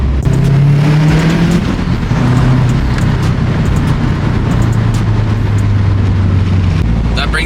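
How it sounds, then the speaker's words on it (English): A Subaru WRX with a 4-cylinder boxer engine rumbles loudly and steadily, its low throb rising and falling in pitch as it revs, with no pause throughout. "I think this is one of the best sounding 4-cylinder boxer engines ever made."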